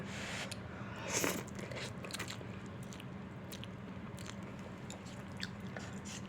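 Someone eats Japanese food alone at lunch, with close, steady biting and moist chewing over a constant low background hum and no talking.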